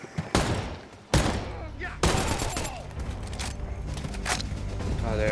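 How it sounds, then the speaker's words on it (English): Gunfire in the video game Predator: Hunting Grounds: several sharp, loud shots and bursts fire at irregular intervals over a few seconds, with echoing tails and background rumble between them. "Oh, they're gunfire."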